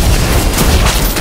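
An enemy turret falling in the mobile game Wild Rift, a loud, dense burst of booming blasts and crumbling impacts that fills the whole moment with no pause.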